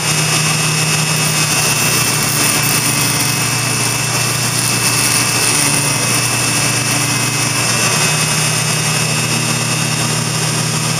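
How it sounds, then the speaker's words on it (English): A Dremel rotary tool grinds down a generic soldering tip for a Hakko FX-888D iron, giving a loud, continuous high-pitched whine that stays steady throughout. "So stop the Dremel tool here and we'll take a moment to measure that."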